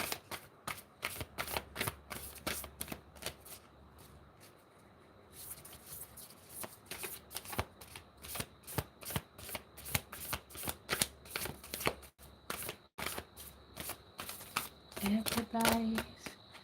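A deck of oracle cards is shuffled by hand in quick riffling bursts that repeat with short pauses between them, close up, while a voice talks underneath.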